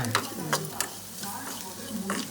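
Tadka frying in ghee gives soft, steady sizzling with occasional stirring clicks and scrapes, close and fairly quiet.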